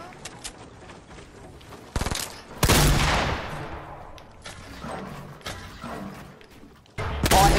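Gunfire in the Fortnite video game, several separate bursts and single shots spread across the stretch with quieter gaps between them.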